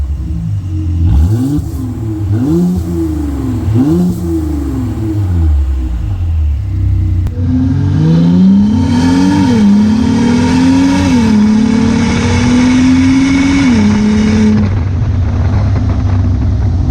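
A Mercedes W213 with an electric exhaust cutout valve open revs up in repeated loud blips, then holds a longer rising, throaty rev before dropping to a steady idle rumble, close by with no talking.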